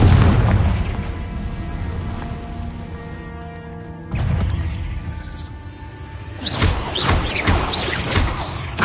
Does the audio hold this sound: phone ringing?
no